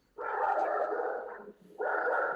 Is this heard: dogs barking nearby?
yes